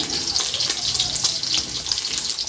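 Boiled potatoes going into a bowl of cold water in a traditional African kitchen, heard as a steady splashing, running-water wash with small repeated sloshes, close and alone.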